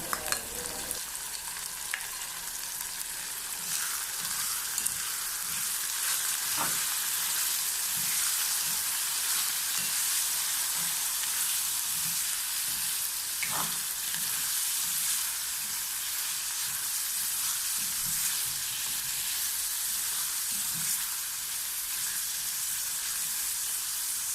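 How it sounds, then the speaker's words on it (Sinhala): Squid fries with mixed rice ingredients in a pan, a steady, moderately loud sizzle and crackle running throughout, with occasional stirring scrapes and clinks. "ඔන්න මම දැන් දැල්ලෝ ටිකත් එකතු කරගත්තා"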